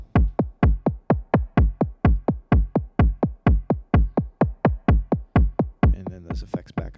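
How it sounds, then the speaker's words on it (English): Two kick drums layered in Ableton with no effects, struck in a steady even pulse of about twenty-five deep booming hits, loud and close, ending in a brief burst of softer, brighter clicks. "The 2 kicks together sound like this."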